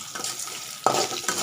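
Garlic cloves, dried red chillies and dals sauté in hot oil with a steady sizzle, and a spoon stirs and scrapes the pan in a few distinct strokes close by.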